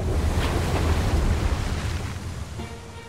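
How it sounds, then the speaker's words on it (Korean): Ocean surf rolling against steep, hard lava cliffs on a Hawaiian coast, a steady broad roar of waves with wind noise, loud and continuous with no talk. "파도는 바로 이 단단한 절벽에 부딪힌다."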